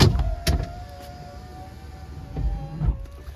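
A BMW E46 passenger power window motor whirs steadily as the glass rolls down, with a couple of soft thumps at the start and a clunk near the end as it stops.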